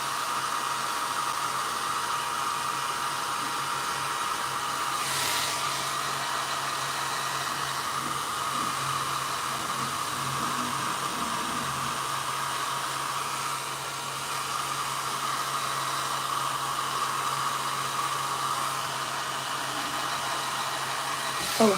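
A handheld heat tool blows steadily over acrylic inks on a paper page, a continuous airy roar lasting the whole stretch without pause.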